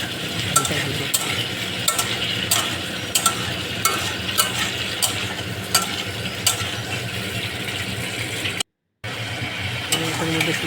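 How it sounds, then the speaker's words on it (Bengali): Pasta and onions frying together in a pan, a continuous close sizzle broken by regular scraping stirs and utensil clicks, with a brief gap near the end. "পাস্তা পেঁয়াজ একসাথে ভালো করে ভাজতে হবে"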